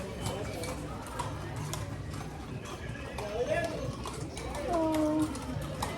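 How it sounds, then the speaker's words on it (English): Horse hooves clip-clop at a walking pace on a town street in Salento, Colombia, mid-distance under bird calls and people talking. "here a horse"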